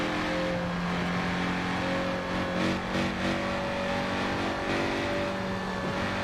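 A car engine in Forza Horizon 5 drones at high revs, holding a loud, steady tone with slight pitch shifts as it accelerates, heard alone without talk.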